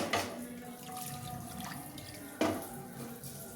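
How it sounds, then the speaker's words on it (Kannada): Water sloshes and splashes in a bowl as something is rinsed, with two sharper pours and steady swishing between. "ನೀರು ಹಾಕ್ಕೊಂಡು ತೊಳ್ಕೊತಾ ಇದ್ದೀನಿ"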